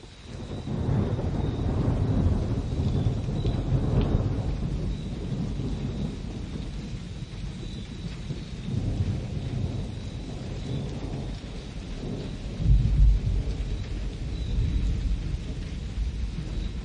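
Rain falls steadily while low thunder rolls and rumbles in waves, with one heavier crack of thunder later on; no voices.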